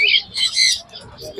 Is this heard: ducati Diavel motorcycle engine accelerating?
no